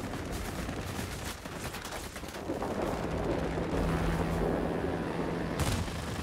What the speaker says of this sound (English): Here's that big old 37 hitting